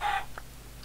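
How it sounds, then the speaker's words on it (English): A blocky Minecraft chicken gives a short burst of clucking at the start, followed by a couple of faint, brief chirps, with no talk over it. "It's another creative mode chicken."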